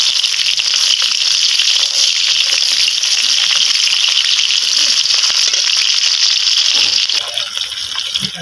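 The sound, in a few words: chopped onion frying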